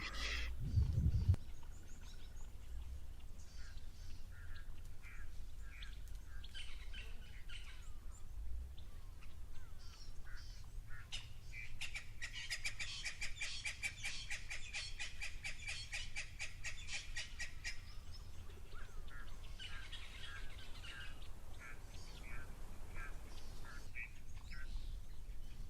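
Birds call around a waterhole at Tau, with Egyptian geese and red-billed teals among them: repeated quacking and honking calls, moderately near, over a steady low rumble of wind or background noise, with no talking.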